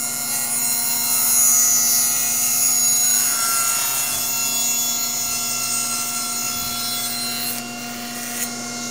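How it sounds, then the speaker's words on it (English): A saw cutting 45-degree edges on wood veneer, a steady continuous rasping drone close by that holds for most of the cut, then shifts and eases near the end. "let's get set up and get ready to cut."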